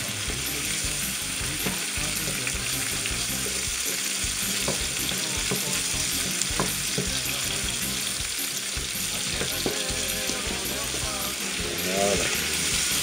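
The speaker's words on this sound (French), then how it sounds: "on va faire revenir un petit peu tout ça à part" Chicken, chayote and calabash curry ingredients sautéing in a pot, a loud steady sizzle under repeated clattering and scraping of a spoon stirring the contents, close-up and continuous, with no voices.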